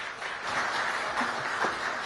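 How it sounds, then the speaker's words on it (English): Audience applause at a Times Now event where the UK High Commissioner to India spoke, a short steady patter of many hands clapping, moderately loud and even throughout, with no talking over it. "Huge round of applause, ladies and gentlemen."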